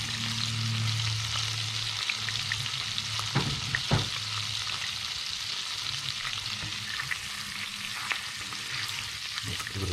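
Chopped tarragon and baby capers swirl in melted butter in a pan, making a continuous bright sizzle with a few scraping, stirring knocks around the middle; no voices.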